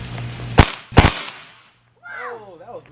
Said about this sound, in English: Give me another firework.